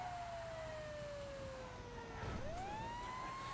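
A fire engine siren in the video game Surgeon Simulator wails steadily, its pitch slowly falling, then swooping back up, over a low engine rumble, with no talk.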